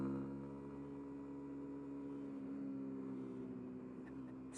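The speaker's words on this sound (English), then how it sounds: "Hear that engine roar." A 2018 Honda CB125R single-cylinder, two-valve 125 cc motorcycle engine humming steadily while riding, with a smooth, even drone and faint wind, moderately quiet throughout.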